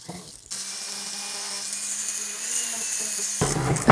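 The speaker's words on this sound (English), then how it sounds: "Let's polish the inside first." A rotary tool polishing the inside of a nephrite jade piece, a sustained high whine with a steady buzzing tone after a brief start, grinding on for about three seconds before cutting off into louder handling noise, no talking.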